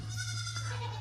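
A baby goat on a farm gives a short bleat, heard close over a steady low background hum, with no talking.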